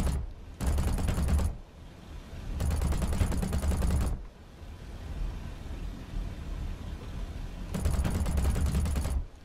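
Aircraft gunfire in War Thunder simulator combat, with three separate sustained bursts of rapid machine-gun fire, loud and close, separated by a steady engine and wind drone.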